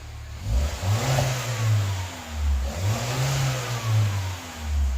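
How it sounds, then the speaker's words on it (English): Nearby 2015 Mini Cooper Countryman S JCW engine with a Borla exhaust revving repeatedly in sport mode, a deep sporty exhaust roar swelling and dropping in rhythmic bursts, loud and alone. "So, Isaiah, go ahead and give it some revs for comparison."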